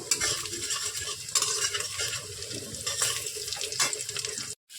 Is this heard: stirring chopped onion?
yes